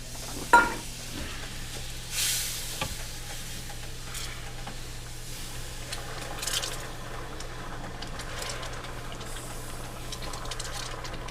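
Gravy bubbles and sizzles faintly in a pan of meatballs and noodles, a soft steady hiss with a sharp utensil clatter near the start and a few light stirring scrapes.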